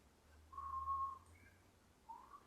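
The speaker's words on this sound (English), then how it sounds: "What's going on when you whistle?" A person whistles a few soft, sustained notes, one long tone followed by a short higher one and another rising note, faint over a low background hum.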